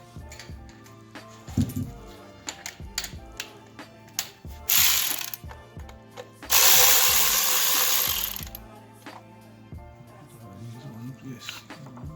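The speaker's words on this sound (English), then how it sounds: "get the power drill and see if we can go faster" Power drill spinning out the valve cover bolts on a BMW E46 engine, with two long whirring bursts between clicking, ratcheting tool handling close by, and voices talking now and then.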